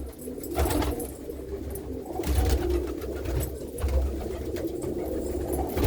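A loft of teddy pigeons keeps up a dense, close chorus of low cooing that swells and fades in waves, with light rustles mixed in and no speech.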